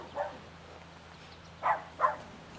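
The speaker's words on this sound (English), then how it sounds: "I got a puppy razzing me right here, barking in my ear." A puppy barks close by in an outdoor disc golf setting, three short yaps spread out over a few seconds, with quiet steady background hum between them.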